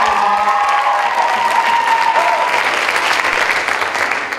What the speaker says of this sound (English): we don't have a lot more opportunities to applaud her on this stage